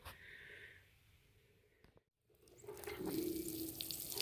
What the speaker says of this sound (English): And don't forget to give it a cool drink of water.